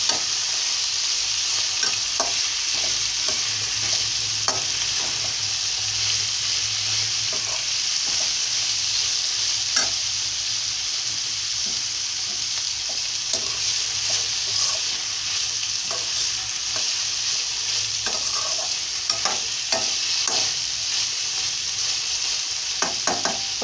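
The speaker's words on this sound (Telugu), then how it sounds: "బాగా కలియ తిప్పి వేయించుకోవాలండి" Broad beans (chikkudukaya) fry in a pan with a steady, close sizzle, and a spoon stirs them in frequent light scrapes and taps throughout.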